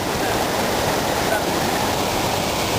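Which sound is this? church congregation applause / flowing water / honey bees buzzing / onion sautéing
flowing water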